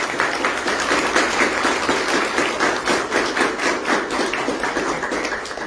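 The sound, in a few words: audience applause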